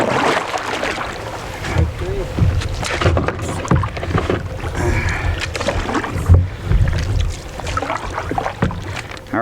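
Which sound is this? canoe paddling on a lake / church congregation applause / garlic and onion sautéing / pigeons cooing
canoe paddling on a lake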